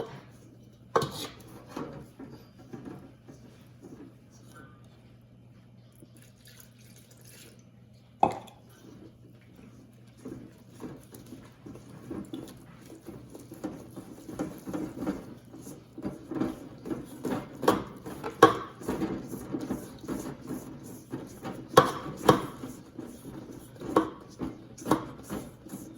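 A spoon stirs warm milk into cinnamon bun dough in a bowl, with irregular scraping and knocking that grows busier and louder after a quiet start.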